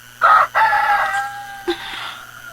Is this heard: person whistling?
no